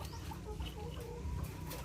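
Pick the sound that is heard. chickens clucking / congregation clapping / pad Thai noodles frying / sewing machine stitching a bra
chickens clucking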